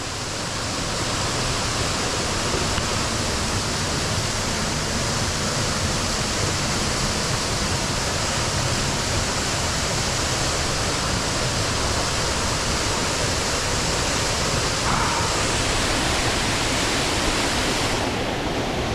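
Catterick Force waterfall pours steadily into its splash pool, a loud, continuous broadband rush of falling water heard up close and unbroken, with no voices over it.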